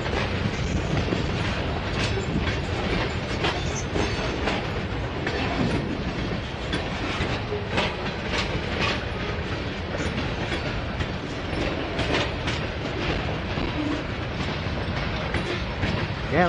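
A freight train with split coil cars rolls past close by on a Norfolk Southern line, with steady rumbling and repeated clanks and clacks of cars over the rails, and no voices.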